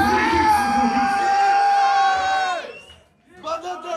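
A loud crowd shouts and cheers at a freestyle rap battle in Varna, a dense roar of voices that breaks off sharply, falls almost silent, then starts up again.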